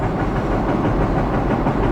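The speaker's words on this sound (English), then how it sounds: "Got a couple of NS engines for power" A freight train led by a pair of Norfolk Southern SD40-2 diesel locomotives rolls past at speed, a loud, close, continuous low rumble and roar with no talking.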